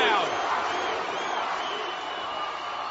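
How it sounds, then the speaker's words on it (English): A hometown wrestling arena crowd in South Florida roars and cheers for The Rock, a loud, sustained wash of noise heard at a distance. "listen to the hometown crowd"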